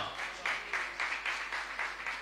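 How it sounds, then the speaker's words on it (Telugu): An audience claps together in a steady, even rhythm during a church worship service, the beats repeating regularly and sounding somewhat distant. "గట్టిగా చప్పట్లు కొడదా."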